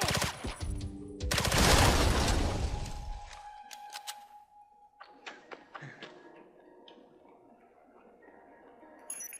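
A loud, roaring blast of gas canisters exploding in the game James Bond 007: Blood Stone, with rapid crackling bursts, swells and fades over a few seconds, followed by scattered clanks and debris rattling.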